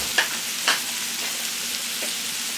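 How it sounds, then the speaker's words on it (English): Onion sautéing in a pan gives a steady, even sizzle throughout, with a couple of faint clicks near the start and no talk. "And then now we're sauteing the onion."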